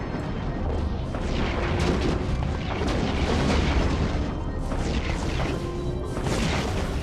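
Spaceship weapons firing in EVE Online, a dense, continuous barrage of booming blasts and crashing impacts that stays loud throughout without a break.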